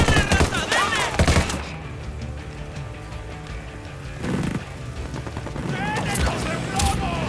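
Gunfire in the tactical shooter game Ghost Recon Wildlands, bursts of rapid shots at the start and end with a louder burst in the middle, mixed with game sound and a voice calling out.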